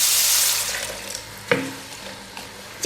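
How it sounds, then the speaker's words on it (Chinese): Water poured from a tap into a pot of lobster tails, a hissing rush that fades out, followed by a couple of clanks and faint sizzling. "接下来我们加水，给它烧一下。"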